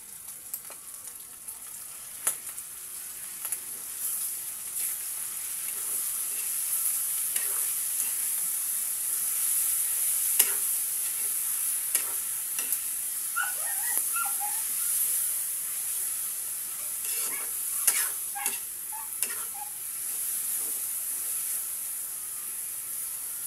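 Pork frying in a pan with shrimp paste (bagoong) added, heard as a steady high sizzle with light scraping and stirring clicks, close and moderately loud, with no talking.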